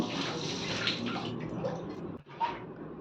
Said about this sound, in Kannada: ನಾನಿಲ್ಲಿ 3 ಗ್ಲಾಸಸ್ ಆಫ್ ವಾಟರ್ ಹಾಕಿದ್ದೀನಿ